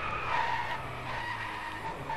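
Car tires skid and squeal while drifting in the racing game Driveclub, a sustained loud screech over engine noise lasting the whole moment.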